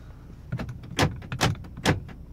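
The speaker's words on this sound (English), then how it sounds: "Power door locks." Power door locks on a 2002 Lexus ES300 clunk several times in quick succession, sharp mechanical thuds close by inside the car with little else around them.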